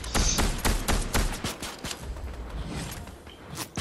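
Several sharp gunshots ring out in Fortnite, spaced unevenly and fairly close, with quieter cracks and some mechanical clatter between them before a final shot.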